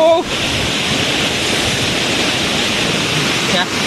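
Floodwater at Kokkada rushes after three hours of heavy rain, a loud, steady broadband roar that holds unbroken from start to finish.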